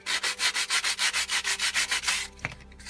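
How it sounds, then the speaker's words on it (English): Sandpaper rubbing back and forth over the wavy scroll-saw-cut edge of a wooden cut-out, about fifteen steady rhythmic strokes, close and clear, ending in a brief knock. "we'll sand that down"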